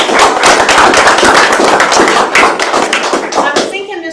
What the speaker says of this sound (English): I want to give you all another big round of applause